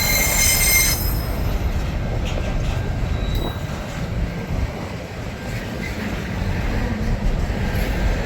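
Long SCT freight train rolling through Tailem Bend behind four locomotives: a continuous, close rumble of passing wagons with persistent wheel squeal, loudest at the start and then settling into a steady roar.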